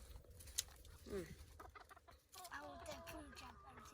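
Egg-laying hens in a vegetable garden clucking close by, with scattered soft clucks and then a run of quicker, busier calls, over faint background noise and occasional talk.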